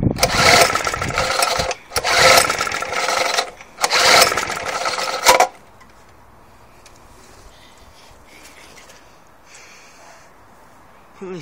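A Suffolk Punch 35S lawnmower being pull-started, with three loud, roughly two-second cranking bursts in close succession; the engine does not catch, and near-silence follows.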